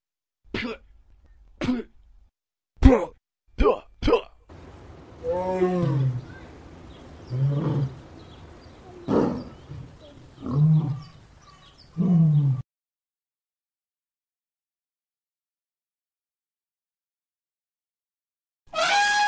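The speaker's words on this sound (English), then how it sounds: "lion," A lion roars in a series of short, sharp bursts followed by several longer, throaty roars, loud and close, then a long silence before a brief final sound.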